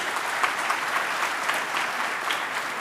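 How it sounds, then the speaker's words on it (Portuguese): Steady applause from a seated audience during a panel debate on free trade, a soft, even wash of clapping heard at moderate distance with no voices over it. "agradeço as palmas"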